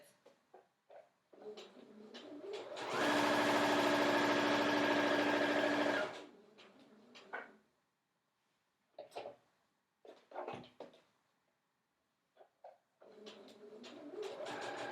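A sewing machine stitches the long edge of a fabric glove bag, running loud and even for about three seconds. It is bracketed by quieter handling sounds and brief fabric movements, with no voices.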